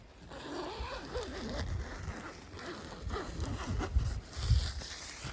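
A single tent door zipper is pulled open in short rasping bursts, close by, with rustling fabric and light outdoor background noise.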